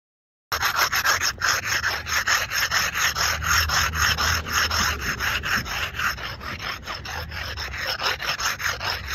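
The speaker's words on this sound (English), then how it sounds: "start brick rubbing." A brick rubbed back and forth on a concrete curb, a loud rhythmic gritty rasp of repeated strokes running steadily after a brief silence, no voices.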